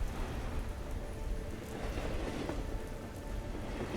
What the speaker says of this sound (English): The rain on the glass becomes quieter, sheltered by the trees above